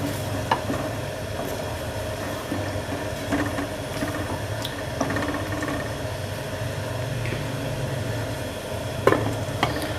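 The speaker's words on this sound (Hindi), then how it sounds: "और इसको हल्के हाथों से बस हिलाएंगे" Steady frying sizzle of egg and potato bhujiya in a pan, with soft spatula scrapes and occasional light clinks as it is gently stirred, continuous and close with no talking.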